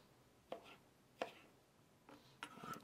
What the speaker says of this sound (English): Always use proper cutting technique when you're cutting vegetables.